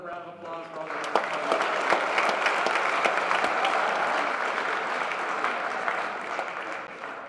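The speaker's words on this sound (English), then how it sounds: "just give these guys another round of applause for all their work" Sustained applause from a banquet crowd honoring the football players, steady dense clapping that fills the room for several seconds with no talk over it.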